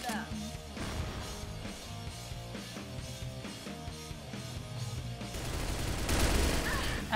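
Steady automatic gunfire from the online shooter Crossfire, a rapid rhythmic stream of shots running throughout with a louder burst near the end, close and continuous with no talk.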